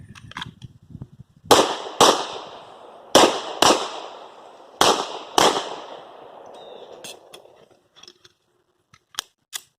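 Handgun shots at an armed security guard qualification range, six loud sharp reports fired in three quick pairs, with faint clicks and clatter afterward.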